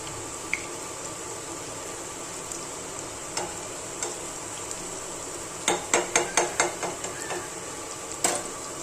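Gobi Manchurian frying in a pan, a continuous low sizzle with a quick burst of sharp spatula taps and another knock near the end, close and without voices.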